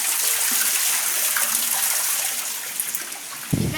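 Produce being washed in water, a close, continuous splashing and sloshing wash that softens slightly toward the end, finishing with a dull knock.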